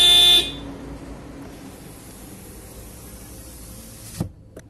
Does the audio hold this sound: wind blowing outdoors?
no